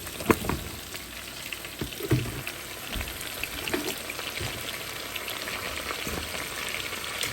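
Oxtails frying in a pot on an electric stove for a Jamaican-style oxtail dish, giving a steady close sizzle with occasional louder pops and crackles and no talking.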